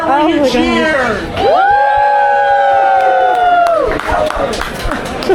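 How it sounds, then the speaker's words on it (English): A crowd in Seattle cheers and whoops, with several voices joining in a loud, sustained rising shout that holds for a couple of seconds before breaking into scattered shouting. "This is the part where you cheer!"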